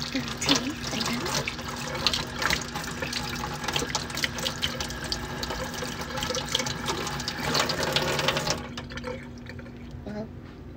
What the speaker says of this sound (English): I'm gonna have to wash the milk off.